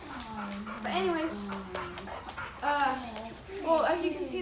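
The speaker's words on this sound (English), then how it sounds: "the dogs seem to be pretty excited to see us" Several excited dogs greet people arriving home, whimpering and whining in rising yelps with a few short barks, close and continuous, while a person talks over them.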